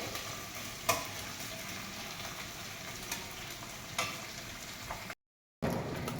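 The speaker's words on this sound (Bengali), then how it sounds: "পেঁয়াজটা একটু লাল লাল করে ভাজা হবে" Chopped onion frying in a pan until reddish brown, a continuous close sizzle broken by a few sharp utensil taps and scrapes, with no voices.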